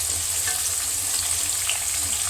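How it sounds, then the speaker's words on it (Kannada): Finely chopped onion frying in oil in a pan, a steady close hiss of sizzling that runs unbroken and fairly loud throughout. "ಇದು ಫ್ರೈ ಮಾಡ್ಕೊಳ್ಳೋಣ"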